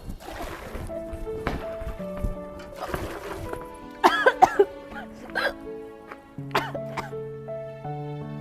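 A woman retching and gagging in a Haryanvi family drama, with several sharp heaving coughs and gulping bursts spaced irregularly against a background of sustained music tones.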